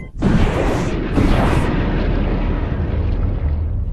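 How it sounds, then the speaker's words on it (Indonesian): A missile launch in an Ultraman Cosmos versus Ultraman Justice movie: a loud, sustained roaring blast erupts after a brief silence, with a second surge around mid-clip, then a steady heavy rumble until the end. "Sepuluh detik menuju peluncuran misil."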